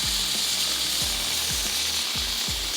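Chapli kababs topped with tomato slices sizzle in oil in a frying pan, a steady hiss broken by low periodic thumps and clatter from handling, with no talking.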